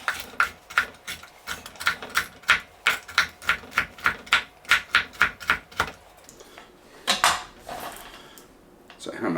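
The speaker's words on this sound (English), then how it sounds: "I'm going to grab a handful. I'm just going to chop them a bit." Walnuts chopped with a knife on a board for porridge, a run of sharp, evenly spaced close knocks that speeds up, then pauses before a few scattered final cuts.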